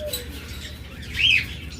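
Lovebirds and budgerigars in a bird shop, with one brief bright chirp rising midway over a steady low background hum and faint scattered twitters.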